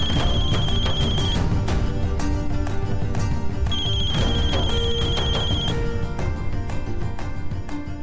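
A telephone ringtone rings steadily on an outgoing call, a repeating electronic tone pattern playing loudly and continuously on its own.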